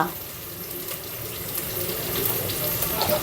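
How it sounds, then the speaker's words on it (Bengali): Water poured into a cooking pot for fish roe, a steady close splashing pour running the whole time and swelling slightly toward the end. "মাছের ডিম রান্না করব তার জন্য পানি দিয়ে দিলাম"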